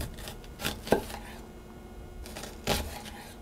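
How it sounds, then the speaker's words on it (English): A knife chops food into long pieces on a board, giving a few distinct sharp cuts spaced irregularly, up close in a quiet kitchen. "I'm just going to cut these into"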